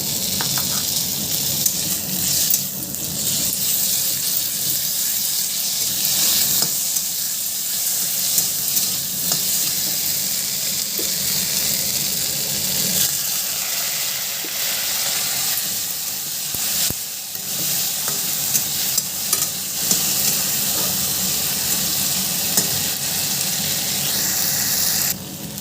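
Cumin, coriander seeds, dried chillies and ginger dry-roasting in a pan without oil, heard as a steady close hiss and scratchy stirring that runs on evenly without a break.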